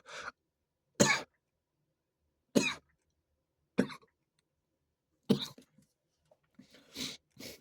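Six separate coughs from someone with a cough needing medicine, some single and some in quick pairs, spaced a second or more apart with quiet between them, fairly close but not loud.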